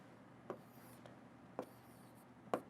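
Pen strokes writing out an integral during a math lesson, three brief faint scratches spaced about a second apart over a low steady room hum, no voices.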